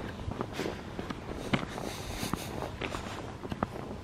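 Footsteps crunch along outdoors at a steady walking pace, fairly soft and close, with faint ambient background and no talking.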